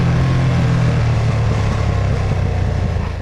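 A 2022 Ducati Streetfighter V2 naked motorcycle on its stock exhaust pulls hard in fourth gear, a loud, close, continuous engine roar that holds steady throughout.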